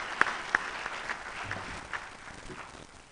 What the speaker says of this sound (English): So let's give them a round of applause from our hearts.